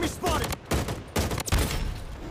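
Bursts of gunfire from a non-automatic gun in the mobile shooter Blood Strike during squad ranked play, several loud, rapid volleys separated by brief gaps.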